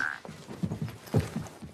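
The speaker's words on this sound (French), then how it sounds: "Bye, les crapauds." Toads croaking outdoors in a repeated series of low, throaty calls, fairly close and moderately loud, with a brief higher tone at the start.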